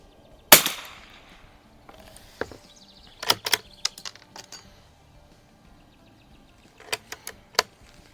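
An early-production Winchester 52 target rifle at a range fires one sharp, close crack. Scattered lighter clicks and knocks follow, some in quick clusters, against a quiet background.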